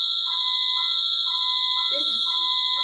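A loud shrill alarm, a false alarm, rings continuously with a steady high-pitched tone while people talk and exclaim over it.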